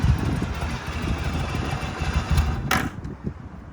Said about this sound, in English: if I get off the chokes, you can hear it just purring away